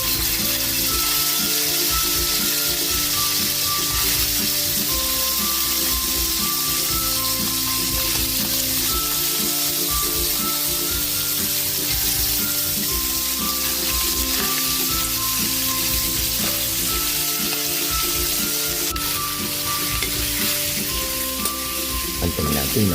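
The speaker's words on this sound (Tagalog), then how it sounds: "Lalagay tayo ng konting mantika. Ipiprito na natin ating pusit." Squid frying in a little oil for adobong pusit, a dense, constant crackling sizzle that stays loud and close throughout, with faint background tones and no clear talk.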